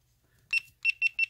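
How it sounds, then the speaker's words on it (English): A small electronic device gives a single bright beep followed by three quick short beeps in an even rhythm as it is switched off, close and clear in a quiet room. "you heard it beep because I shut it off"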